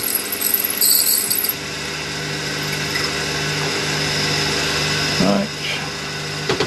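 Drill working on a hole in a diesel engine crankshaft, a steady whining motor hum that holds throughout before easing off near the end, with a brief spoken word.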